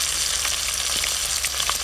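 Fish frying in mustard oil in a home kitchen, a continuous dense sizzle and crackle of hot oil, close and steady with faint stirring, no talk.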